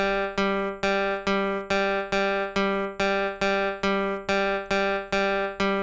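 A single sampled note on a tape sampler keyboard repeats about a dozen times at a steady pace, each strike bright and sustained, the tone varying slightly from hit to hit as it cycles through samples.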